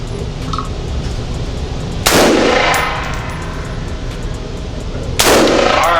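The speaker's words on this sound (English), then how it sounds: "Go ahead and fire 2 shots." Two sharp, loud gunshots ring out a few seconds apart from an expensive full-auto firearm on a range, each followed by a decaying echo, with no talking.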